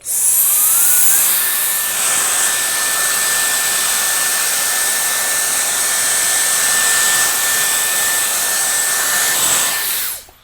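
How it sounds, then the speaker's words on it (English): A hair dryer on cold shot at high airflow, a loud steady whooshing roar with a thin whine that holds for about ten seconds before cutting off. "Lastly, I'll blast it with cold shot just so that everything freezes into shape at a higher airflow."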